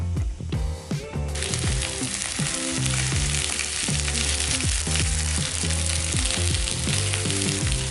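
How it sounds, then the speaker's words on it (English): Pork fillet stir-frying in hot olive oil gives a loud, dense sizzle that swells in after a second and holds steady, with music playing underneath throughout. "Now, heat the pan with the olive oil. Then, stir fry the pork fillet."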